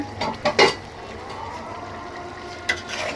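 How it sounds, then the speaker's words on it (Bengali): A metal lid clanks and scrapes as it is lifted off a pot of chicken cooking on the stove: a few short sharp clinks close together, then a low simmering background and one more light clink. "এখন ঢাকনা উঠিয়ে দেখবো মাংসের কি অবস্থা"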